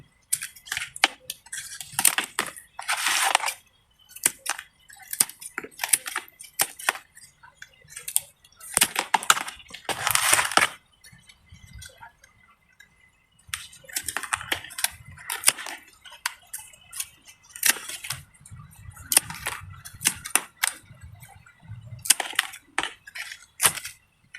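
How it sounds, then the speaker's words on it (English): Brown, dead leaves being trimmed off a young pineapple plant in a fall garden: bursts of crisp snipping and crunching rustle come in uneven clusters, close and fairly loud, separated by short quiet gaps. "So just gonna trim these brown little leaves off here"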